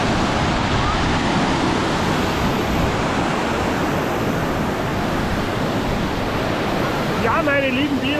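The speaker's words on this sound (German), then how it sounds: "Hinter mir rauscht es ganz gewaltig runter." The Todtnau waterfalls in the Black Forest roar with a steady, loud, broadband rush of falling water, unbroken throughout, with a voice rising briefly near the end.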